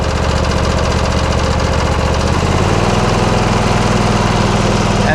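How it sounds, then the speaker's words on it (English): Husqvarna YTH24K48 lawn tractor engine running close and loud, a steady chugging idle that shifts to a smoother, higher throttle note partway through. "We'll give it a little throttle here."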